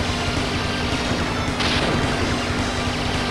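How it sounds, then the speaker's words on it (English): Dense gunfire and booming rocket blasts from the video game Lucky & Wild, a loud, continuous barrage with a sharper burst partway through and no voices. "Now I think they're shooting rockets at me."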